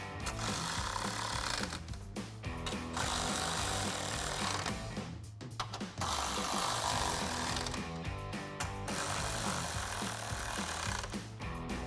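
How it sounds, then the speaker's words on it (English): A power tool spins a 10 mm socket to tighten grille bolts on a 2014-2015 Chevrolet Silverado 1500. It runs in loud, sustained whirring bursts separated by brief pauses. "We'll take a 10 mil socket to tighten down our bolts."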